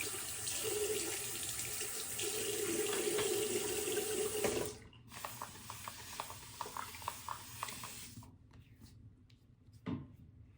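A bathroom tap runs steadily while the face is wetted before a shave with a single edge razor. The flow is loud and continuous, then thins into irregular splashes and drips as hands scoop water, and it stops near the end.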